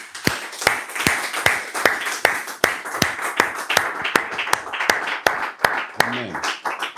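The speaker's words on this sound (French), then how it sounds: "Applaudissons." Congregation in a church clapping in a steady rhythmic beat during a Sunday service, sharp regular claps over a wash of crowd noise and voices, with speech mixed in throughout.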